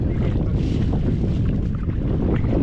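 Wind gusts across an open fishing pond on a rainy day, a steady loud rush buffeting the microphone throughout with a faint voice mixed in.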